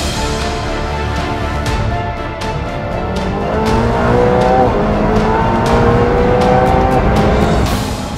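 A 1000 hp rear-wheel-drive McLaren 720S sports car drives hard, its engine revving and rising in pitch through the gears with sharp shifts between, loud and close with no talk.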